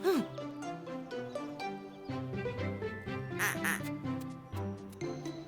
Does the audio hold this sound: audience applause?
no